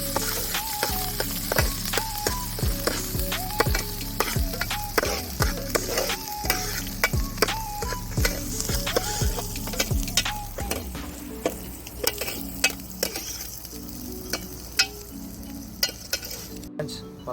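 Green chilies and coriander sizzle in hot oil in a pan while a spoon stirs and scrapes at a steady, repeated pace, close up and without any talking.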